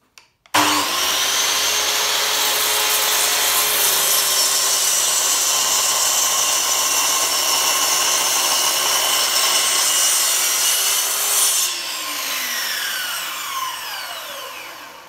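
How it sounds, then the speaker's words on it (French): A Metabo KGS 216 M mitre saw cuts through wood, its loud steady motor whine and blade cut running for about eleven seconds alone before the motor winds down. "Et nous allons procéder à la découpe."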